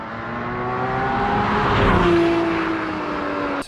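A 2016 Porsche 981 GT4 engine sweeps past, its rising and falling note swelling to a loud peak midway before fading, with a faint tire squeal.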